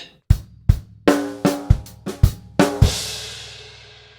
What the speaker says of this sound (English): The whole bar, bar 20, sounds like this: